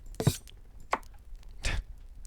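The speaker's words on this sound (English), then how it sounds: "Let's get to chopping." Three separate knife chops land on food in the horror cooking game Cucina Stellata, each a short, fairly close, sharp thud spaced irregularly apart.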